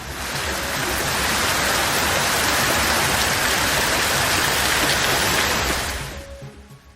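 Heavy wind-driven rain pours during a cyclone in Nagapattinam, a loud, dense, steady hiss that holds without letup before fading away at the very end, with no voices.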